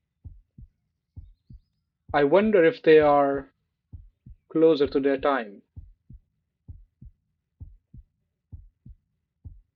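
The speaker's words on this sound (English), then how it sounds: "We also has the heartbeat effect." A steady video-game heartbeat sound effect thumps in a regular double-beat rhythm throughout, clear and close, with a voice speaking briefly over it in the middle.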